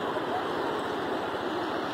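A river swollen by heavy rains rushes past in a steady, broadband roar of flowing water, heard close and continuous without breaks.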